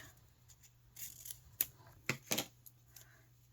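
Scissors snipping through paper for a globe craft project, several close, crisp cuts in quick succession, a pair of sharp snips near the end, with a faint steady hum beneath.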